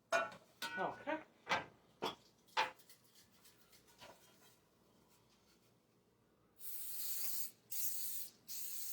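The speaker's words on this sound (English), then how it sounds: "Spray my pan" A cake pan gets a coating of cooking spray in a home kitchen, a couple of bright hissing bursts near the end, after a series of scraping, rubbing handling sounds close by.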